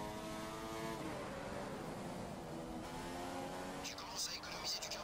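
Formula 1 car engine from the F1 2015 racing game at the Malaysian Grand Prix, a steady high-pitched drone running beneath a man's radio-style talk, with a brief rising burst near the end.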